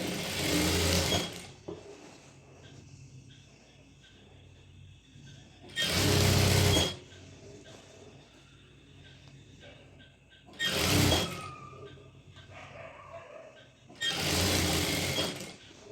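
Sewing machine top stitching a garment lining, loud rapid whirring bursts of about a second each, four runs separated by quieter pauses with faint handling noise in between.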